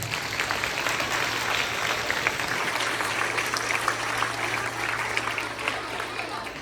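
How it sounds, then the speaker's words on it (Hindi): Schoolchildren applaud their teacher at a school astronomy lab inauguration, a busy stretch of sharp, scattered claps with a low electrical hum beneath and some voices mixed in. "तो पहले तो आपके अंजू मैम के लिए एक बड़ा सा तालियां हो जाना"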